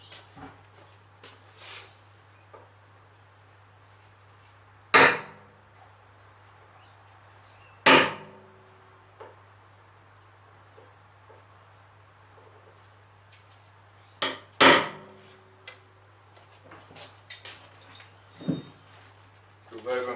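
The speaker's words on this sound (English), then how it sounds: "So I'll just center punch" Sharp metallic hammer strikes on a center punch marking metal in a shed, a handful of isolated loud taps spaced seconds apart over a low steady hum, with quieter clicks and handling noise between.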